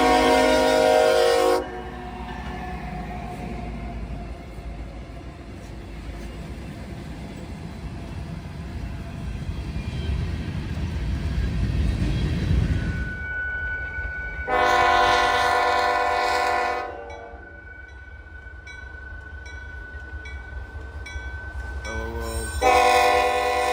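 Eastbound Norfolk Southern M363 freight with Amtrak MP15DC switchers, loud multi-tone horn blasts at the start, around 15 to 17 seconds and at the end, with a rumbling rolling train building between them.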